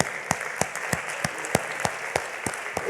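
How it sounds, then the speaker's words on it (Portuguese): Church congregation applauding during a Portuguese-language sermon, sparse and fairly distinct claps at a loose, uneven rhythm, moderately close, with no talking over it. "Vamos dar uma salva de palmas para Jesus."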